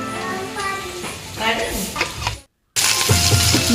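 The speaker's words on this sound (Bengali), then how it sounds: "আগে থেকে যেই সসটা বানিয়ে রেখেছিলাম সেই সসটাকে ঢেলে দিলাম" Prepared sauce of chilli and tomato sauce is poured into a pan of fried onion and capsicum, with a crackling sizzle and utensil clinks under a woman's speech, then a brief dropout before louder, denser frying.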